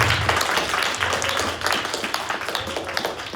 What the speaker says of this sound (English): Round of applause for Andrew, everybody.